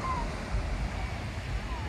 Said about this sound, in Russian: Вечерний пляж Патонг.